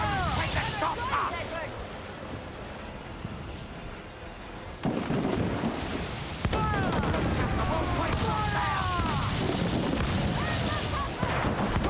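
Ship cannons firing in Assassin's Creed 4, a naval battle of repeated booming shots and crackling blasts over a constant roaring background, growing louder and denser partway through, with shouted voices mixed in.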